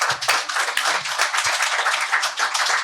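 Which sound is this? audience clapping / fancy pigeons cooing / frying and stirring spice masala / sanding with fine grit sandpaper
audience clapping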